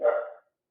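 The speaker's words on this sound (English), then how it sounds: "sorry if you hear my dog barking." One short, close bark from a dog, a single loud burst that fades out within half a second, then silence.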